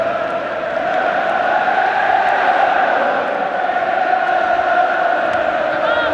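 A dense Wembley Stadium football crowd at England v USSR in 1984 roars and cheers steadily late in the match, a broad, unbroken wall of voices holding at the same loudness throughout.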